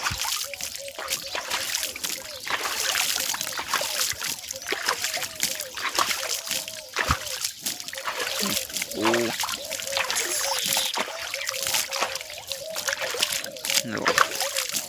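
A buffalo drinks from water, with repeated splashing and sloshing right up close throughout, under near-constant talk and chatter from people nearby.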